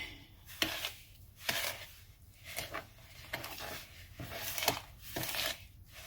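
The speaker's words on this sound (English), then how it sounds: "we're just going to mix this well until a dough forms" A metal spoon works butter-chunked dough around a bowl, giving rhythmic scraping and knocking strokes about once a second, close and fairly quiet, with no talking.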